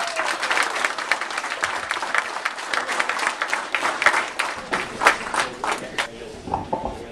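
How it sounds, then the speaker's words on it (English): A crowd at a Minnesota Twins Caravan stop in Worthington claps for the visiting players, producing lively, uneven applause with distinct individual claps, fairly close, that thins out toward the end. "big round of applause for your Minnesota Twins, Eduardo Escobar, Brian Dozier, and of course, Dazzle Dan Gladden"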